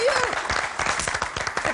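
Audience applause breaks out in a studio setting on a French show, a dense patter of clapping across the moment with voices calling out over it, including a brief whoop at the start.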